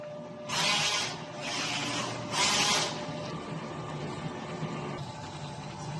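DTF printer running a nozzle test, three short rushing swishes of the print head carriage sweeping back and forth over a steady mechanical hum, close and moderately loud, with no speech.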